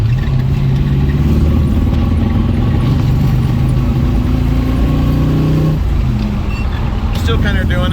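Car engine after a fuel filter change, running loud and close with sustained throttle and a roughly steady mid-pitched drone that shifts slightly near the end, with someone talking over it.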